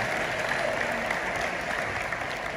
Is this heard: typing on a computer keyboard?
no